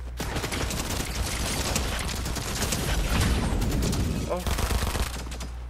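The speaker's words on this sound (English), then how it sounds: "We finally got micro SMGs, boys." Dual micro SMG fire in Fortnite, long sustained rattling bursts filling several seconds, loud and close, with a brief pause near the end and a player's short exclamation over the shooting.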